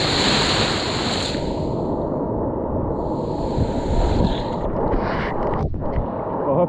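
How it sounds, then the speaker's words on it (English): Large waves crash on a secluded Scottish beach, a loud, dense surf roar that swells and eases slightly, mixed with gusty wind against the microphone. "Those are big waves,"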